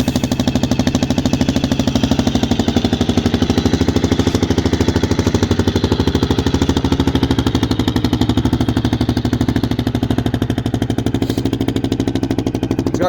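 A 2022 Kawasaki KLR650 with a DG aftermarket exhaust idles warm, giving a steady, fast, even thump from close behind the bike. It runs loud and unbroken for the whole stretch with no voices.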